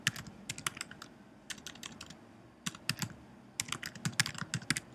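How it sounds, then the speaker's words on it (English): An email address is typed on a computer keyboard in quick clusters of crisp, close keystrokes, separated by short pauses, over a faint background hiss. "you're basically going to type in your email"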